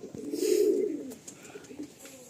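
A Madrasi pigeon gives a soft, low coo close by, one rolling call swelling then fading, followed by fainter murmurs.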